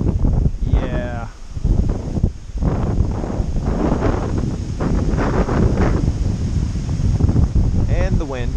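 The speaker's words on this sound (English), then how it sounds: "And the wind, of course, the wind." Strong wind gusting across an open hilltop field with a wide view on the Appalachian Trail in Connecticut, roaring continuously into the microphone with brief voices and rustling mixed in.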